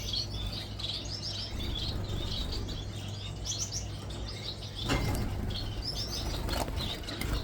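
Wings flutter and flap nearby while small Gouldian finches chirp and twitter in bursts in an aviary, with a louder rush of flapping near the end.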